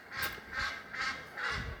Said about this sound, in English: The squawks or the hoots of the geese